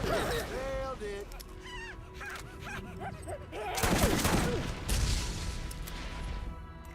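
Gunfire in a shooting video game, bursts of shots and crashes mixed with game sound effects, with a person talking over much of it.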